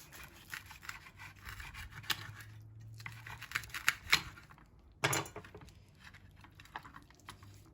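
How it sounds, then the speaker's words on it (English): A knife saws through carne asada mulitas on a board, a quiet series of irregular crisp scrapes and taps with one sharper crunch partway through, close but faint. "Let's go ahead and cut one up"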